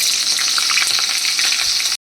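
Potatoes fry in hot oil tempered with whole spices, giving a loud, dense, continuous sizzle and crackle for two seconds before cutting off sharply.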